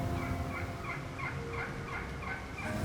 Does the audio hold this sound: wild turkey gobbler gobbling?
yes